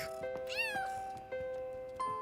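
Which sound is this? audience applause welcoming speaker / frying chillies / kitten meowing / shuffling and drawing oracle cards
kitten meowing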